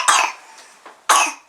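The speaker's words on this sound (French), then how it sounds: "Tu tousses." A child coughs twice at bedtime, two short harsh bursts about a second apart, close and fairly loud, with a faint throat sound between them.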